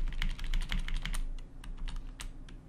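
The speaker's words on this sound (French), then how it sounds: "Avec les flèches du clavier," Keyboard arrow keys on a computer are tapped in a quick run of close, crisp clicks, then slower scattered presses over a faint hum.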